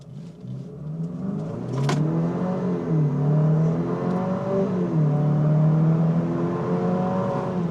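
A 2025/2026 Nissan Murano Platinum AWD accelerates on the road, its engine note climbing and falling through the revs in a steady, fairly loud drone heard from inside, with no talking.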